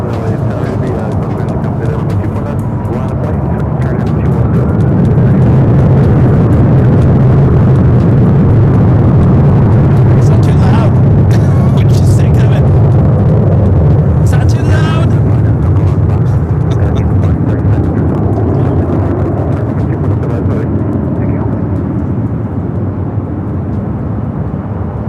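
A jet airliner, a 900 ER, at LAX airport produces a continuous heavy roar that swells and lingers for a long stretch before easing slightly.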